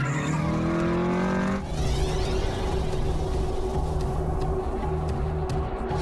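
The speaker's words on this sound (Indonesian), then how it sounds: "tepat di belakangnya ada mobil melaju dengan kecepatan tinggi" Toyota AE86 racing at high speed in the Initial D film, a loud continuous engine roar with a shifting tone and a sudden change after a second and a half, no talk.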